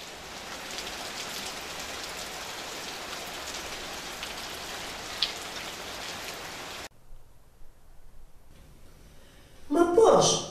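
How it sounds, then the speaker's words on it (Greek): A heavy rain downpour, a dense steady hiss of drops on surfaces for several seconds, then it cuts out to a quiet stretch before a short burst of speech-like sound at the end. "Ξαφνικά, σέπασε μια δυνατή μπόρα."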